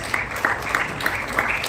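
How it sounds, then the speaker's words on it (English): Audience at an oratory contest inauguration ceremony applauds during a newsletter unveiling, a steady crowd clapping with periodic louder claps rising above the mass. "Let's have a round of applause"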